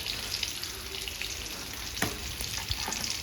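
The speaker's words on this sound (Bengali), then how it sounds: "তেল গরম হয়ে গেছে কড়াইতে এখন ডিম দিয়ে দেবো" Eggs frying in hot oil in a wok, a continuous close sizzle with a few sharp crackles and pops, no talk.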